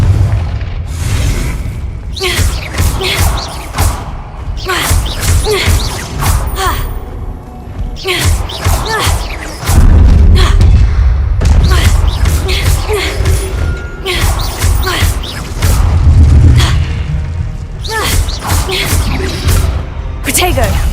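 Confringo blasting spells in Hogwarts Legacy burst in repeated booming explosions with heavy low thuds, close and loud, coming in clusters over a steady game backdrop with voices talking at times.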